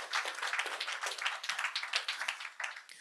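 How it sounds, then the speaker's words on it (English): An audience at a slavery-related forum claps continuously in a quick, dense patter that keeps going throughout, moderately loud with no talk over it. "So really clap to them as well"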